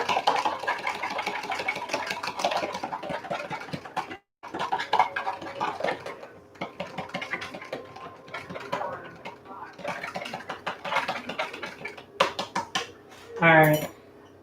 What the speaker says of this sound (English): And I am going to go for the fork. And whisk it really good.